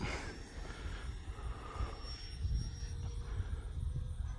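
An E-flite Viper 70mm RC jet passes overhead on a sunny day with a steady, faint whine over a low rumble of wind.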